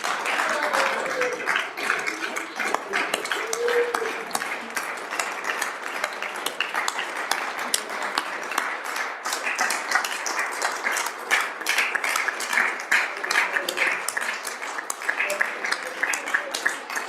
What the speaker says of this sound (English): One more round of applause for these interns.